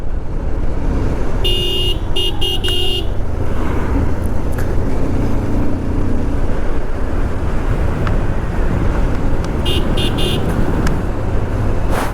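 A Bajaj Pulsar motorcycle rides along a road between Ooty and Wayanad, with a loud constant roar of engine and wind and short bursts of horn toots early and again near the end.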